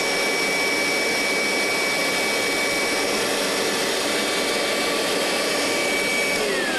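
Vax Dual V upright carpet washer running on suction only, a steady loud broadband motor roar with a high whine that holds constant throughout, no speech.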